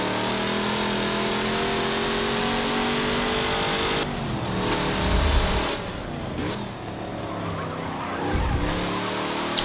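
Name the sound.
Chevrolet Nova race car engine in Forza Motorsport 7 video game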